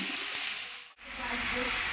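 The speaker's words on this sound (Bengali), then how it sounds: "আলু পেঁয়াজটা আস্তে আস্তে ভাজা হোক" Potatoes and onions fry in oil with garlic and green chillies, giving a steady, close sizzle and hiss that drops out for a moment before continuing, with no talking.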